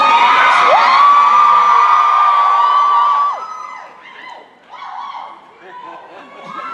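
Audience at a DallasCon 2019 fan convention panel cheers loudly, with one high sustained scream over the crowd before it breaks into scattered whoops and shouts that fade and swell again.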